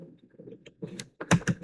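Computer keyboard keys are tapped in a short burst of quick, close clicks near the end, after a few softer taps with low background hum.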